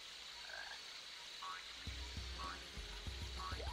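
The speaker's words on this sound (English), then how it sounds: "It's a frog." A frog croaks in a jungle level of the video game Sonic Adventure DX, a few short low repeated croaks over steady game background ambience.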